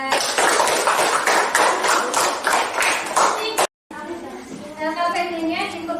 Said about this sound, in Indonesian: beri tepuk tangan untuk Andra